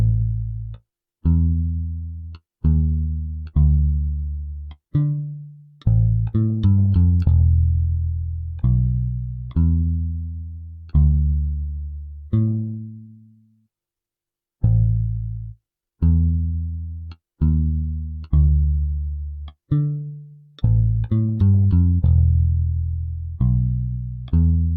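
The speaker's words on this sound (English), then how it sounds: "for the bass I used a plugin called Modo Bass. The name of the preset is 70s J Bass, and it sounds like this." Modo Bass plugin playing its 70s J Bass preset in a soulful sample: a rhythmic bass line of plucked notes, some long and decaying, others in quick clusters, loud and alone with short gaps between phrases.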